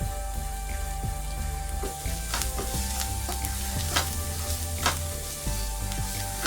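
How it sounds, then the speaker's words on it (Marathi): Onion frying in a pan for a rice dish, with curry leaves nearby: a steady sizzle runs throughout, broken by several sharp scrapes and stirs of a spatula, close and fairly loud, with no talking. "कांदा थोडा फ्राय करून घेऊया."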